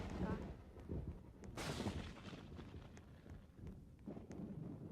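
In the video game Dead Rails, a firework goes off as a single muffled blast with a crackling burst partway through, set against a steady rumbling background at low volume.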